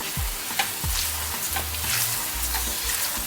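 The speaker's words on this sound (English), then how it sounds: "As you drop it in the oil, it rises. That's why we call it floats." Floats, pieces of dough, fry in hot oil with a steady crackling sizzle, close and fairly loud, with occasional scrapes and knocks as oil is spooned over and the pieces are turned.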